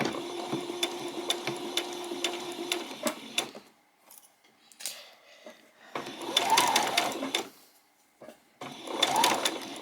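A sewing machine runs in several bursts, back stitching and then sewing around the edge of fabric for a peasant top. It rattles loudly up close, with short pauses between runs and no talking.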